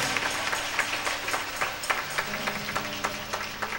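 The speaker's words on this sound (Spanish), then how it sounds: "Dale un aplauso al Señor y siente su momento." Applause from a church congregation, moderate and somewhat distant, with individual claps standing out over a low background hum.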